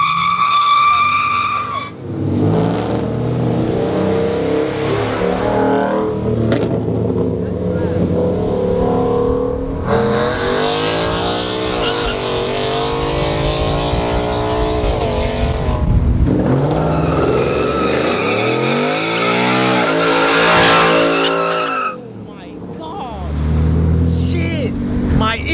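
A BMW M240 and a B58-powered car street racing, with loud tire skids and screeching, engines revving hard and cars passing close by, over a steady crowd and engine roar that dips briefly near the end.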